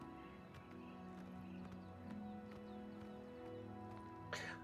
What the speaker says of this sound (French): Ah, les chevaux.